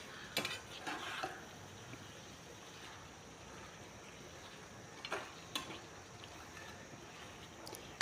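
Chicken with spices for a dry chicken dish is stirred in a pan over raised gas: a faint, low sizzle with a few short scraping stirs near the start and again later.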